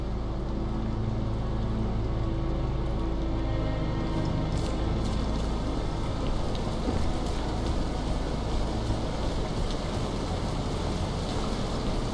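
Steady rain pours down in the video game The Caribou Trail, a constant broadband hiss with a low rumble underneath and no voices.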